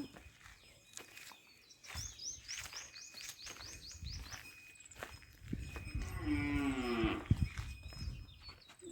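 Grazing cows on open village pasture moo repeatedly in long, low calls, fairly close, with birds chirping faintly in the background.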